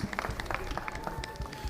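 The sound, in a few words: applause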